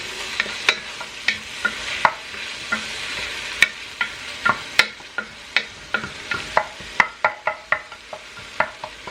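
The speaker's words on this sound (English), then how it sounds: "Then I'm going to add my butter. Let that get melted in here with all of this goodness." Butter melting in a hot pan with other ingredients, a gentle sizzle under a run of crisp, irregular utensil clicks and scrapes against the pan that grow more frequent toward the end, no voices.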